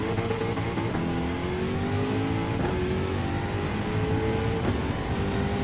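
Jaguar F-Type Group 3 race car engine in Gran Turismo 7, a steady loud drone with rising pitch sweeps as it accelerates through gears, running continuously with no talk.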